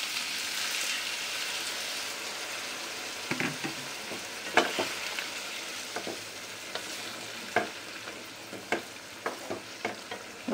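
Paneer and its water poured into a pan of sizzling fried potatoes, a steady close frying hiss with scattered sharp crackles and pops throughout, no talking.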